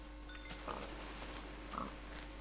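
Pigs oink twice in Minecraft's Tekkit modpack, with two short, soft grunts about a second apart over a steady low ambient hum.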